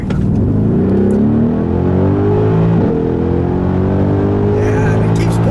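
A 2018 Mercedes-AMG GLC63 accelerates hard in automatic mode, its engine roaring loud and close as the pitch climbs through upshifts, with a brief dip at a gear change.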